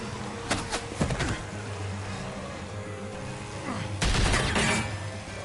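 Bursts of gunfire in The Walking Dead: A New Frontier, sharp cracks clustered early and a louder volley later, over a steady engine-like rumble, with no talking.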